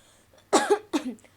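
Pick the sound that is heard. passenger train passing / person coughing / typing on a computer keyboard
person coughing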